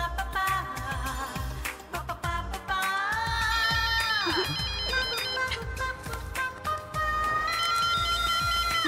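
A mobile phone ringtone plays for an incoming call, a loud, bright electronic melody that repeats its phrases steadily and fills the scene with little else around it.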